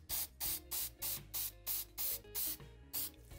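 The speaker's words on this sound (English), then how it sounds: "All you're gonna do is just spray it on casually." Krylon Crystal Clear aerosol coating sprayed in about nine short, even hissing bursts at a steady rhythm, close and loud, with brief gaps between each burst and no talking.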